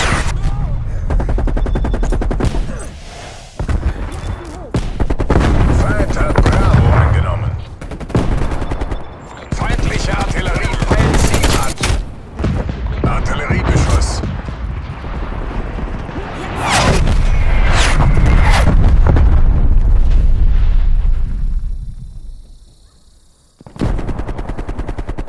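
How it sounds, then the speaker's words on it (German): Heavy gunfire and booming explosions in an online Call of Duty Black Ops Cold War Domination match on Nuketown on PS4, with an artillery barrage as well. The blasts and shots are loud and dense, come in repeated bursts, and drop out briefly near the end. "Feindliche Artillerie peilt Ziel an. An alle. Artilleriebeschuss."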